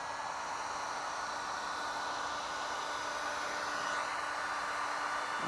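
Heat gun blowing hot air onto paint protection film on a Cybertruck, a steady close whooshing hiss held unbroken for several seconds at moderate level.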